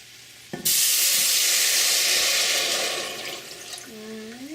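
Two cups of water poured into a pan of Uncle Ben's rice frying in oil, setting off a sudden loud, broad sizzle that hisses steadily for several seconds, then eases as the boil settles; a brief voice sounds at the end.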